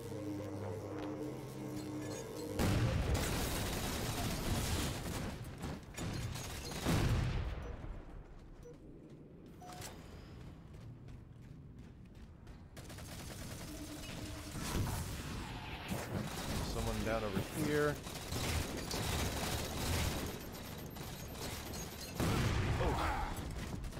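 Pistol shots and other gunfire crack in a Halo multiplayer slayer match, arriving in scattered bursts amid game effects and music, with a brief quieter stretch midway.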